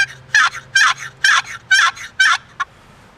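Slow, raspy gobbler yelps imitated on a wooden turkey box call, five drawn-out strokes evenly spaced and close, ending with a short clipped note.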